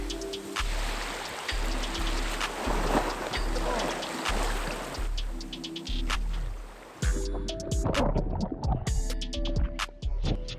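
Sea water splashes close by at an empty beach as someone washes their face in the surf, with uneven wet slaps and sloshing over a steady wash of waves and a low droning background.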